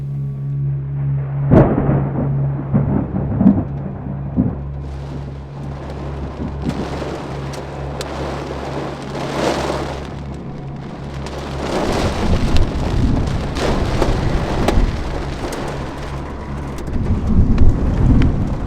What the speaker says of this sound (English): It was windy and loud, but in the end I was too tired and fell asleep in the middle of the storm